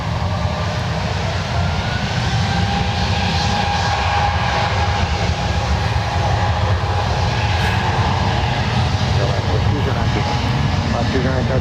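An Airbus A380 jet rolls down runway one right at San Francisco International Airport, a steady, loud broadband engine roar that holds evenly throughout, with radio talk running over it.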